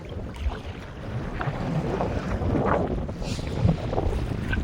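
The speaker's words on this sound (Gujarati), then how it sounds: "પવન નીકળ્યો આજે" Wind blows steadily across open sea around a fishing boat, a broad, rushing roar with buffeting gusts and a faint wash of water beneath it.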